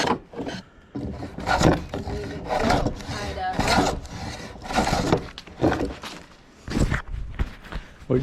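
Rasping, rubbing strokes of sanding or smoothing on rotten wooden deck boards during replacement, repeated in uneven bursts close by, with occasional voices in the background.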